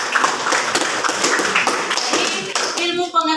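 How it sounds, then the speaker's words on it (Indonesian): A classroom of students claps together, a dense quick patter of hands that runs for about three seconds before fading as a voice begins. "Kita berikan tepuk tangan."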